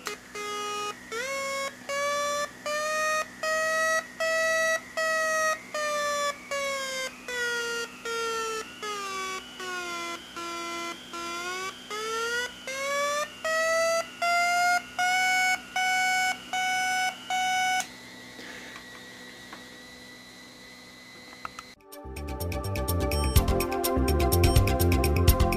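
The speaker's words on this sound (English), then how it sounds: "we'll tune around a little so you can hear the difference in tone as we vary the frequency slightly" An MRX-40 receiver gives a steady pulsed tone whose pitch glides down and back up as the frequency is tuned, ending in a burst of noisy static and jumbled signals.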